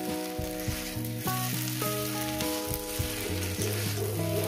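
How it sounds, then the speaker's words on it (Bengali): Loud, steady sizzle of beto greens and mourala fish frying in hot oil, continuous hissing throughout, with a tonal musical background underneath. "আরো 4 মিনিট ভাজবো"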